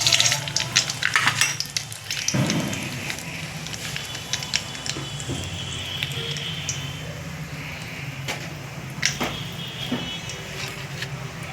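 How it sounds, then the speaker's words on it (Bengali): Mustard seeds crackle and spit in hot oil after chillies have been fried, a dense patter of sizzling with sharp pops scattered throughout, loudest at the start and settling into a steady fry. "লঙ্কাটা ভাজা হয়ে গেছে, এবার আমি সরষাটা ফোড়ন দিয়ে দেবো।"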